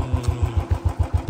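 A motorcycle fitted with a standard silencer thumps at idle, sending out an even, quick chain of low exhaust pulses from close range for just over a second.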